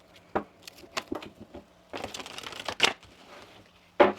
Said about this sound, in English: Let's get one more shuffle here.